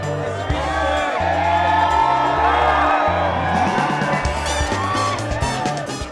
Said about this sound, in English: we've got a hell of a crowd